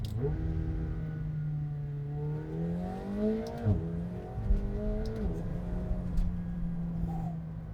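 McLaren 720S engine in track powertrain mode accelerating, a loud close-up rising engine tone that climbs through gears with brief dips at shifts, steady and strong throughout with no talk.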